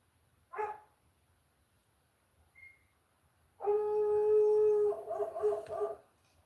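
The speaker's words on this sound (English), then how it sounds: "That's the other dog next door." A neighbour's dog gives a single bark, pauses, then breaks into a long, loud howl that wavers and trails off into whimpering yelps, with no one speaking.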